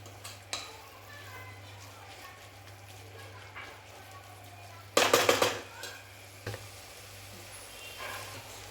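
Chinese-style pasta tossed with Schezwan chutney and soy sauce is stirred in a pan, with a sharp cluster of scraping clatter midway and a few lighter knocks over a low steady hum and faint room sound.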